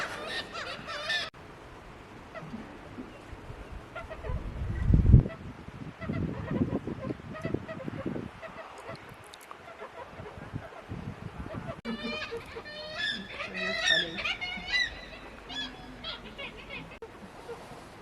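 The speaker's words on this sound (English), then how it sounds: "Sure is nesting season for the gulls." Gulls call repeatedly at a harbor in the Lofoten Islands during nesting season, their harsh, honking cries rising and falling at moderate distance over a busy outdoor background.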